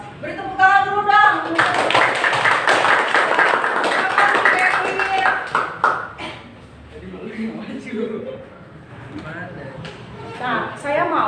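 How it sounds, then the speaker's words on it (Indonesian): A classroom of students claps together in a dense burst of hand claps lasting several seconds, with voices before and after it, and the clapping fades into chatter. "Beri tepuk tangan dulu dong."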